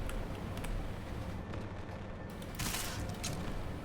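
Gunfire in Deus Ex: Mankind Divided rattles in dense bursts over a loud, roaring sandstorm-like ambience, with a brighter flurry of shots near the end.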